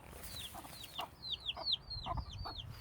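A mother hen in a backyard coop clucks softly while her two chicks let out a rapid run of high, downward-sweeping peeps, close by and fairly quiet.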